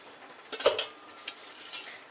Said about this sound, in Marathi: मी वरचा झाकण काढून घ्यायचं।